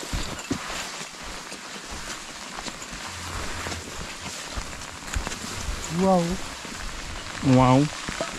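Steady rain falls on a mountain hiking trail on Mount Wilis, a close, constant hiss of drops that runs throughout, with brief voices speaking over it near the end.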